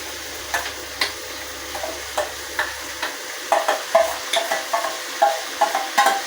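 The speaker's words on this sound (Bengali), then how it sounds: "এবার আমার ম্যারিনেট করা মেটেটা এই কড়াইয়ের মধ্যে আমি আলু পেঁয়াজের মধ্যে ঢেলে" Marinated goat liver tipped into a wok of potatoes and onions, a soft steady sizzle broken by a run of sharp, regular spatula taps and scrapes that grow busier toward the end, close by.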